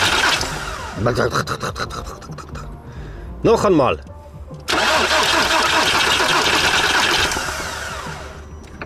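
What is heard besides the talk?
car engine being started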